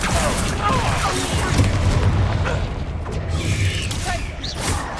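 Confringo blasting spell cast in Hogwarts Legacy, with a string of booming, crackling impacts and mechanical clatter over about five seconds, loud and busy, a voice briefly present underneath.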